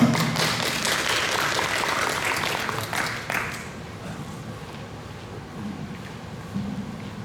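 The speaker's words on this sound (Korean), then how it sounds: "박수 부탁드립니다" An audience at an academic conference on intangible heritage applauds in a hall; dense clapping fills the first few seconds, then fades into quiet room tone.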